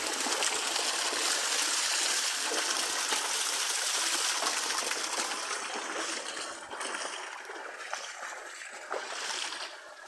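Continuous rushing water of a flowing stream, fairly loud at first then easing slightly, with no talking.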